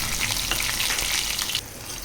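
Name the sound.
tempering cumin and mustard seeds in hot oil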